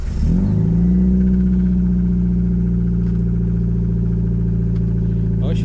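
A car engine catches on a cold start with its exhaust disconnected underneath, then settles into a loud, steady, rough idle that drones on close by, with a brief voice near the end.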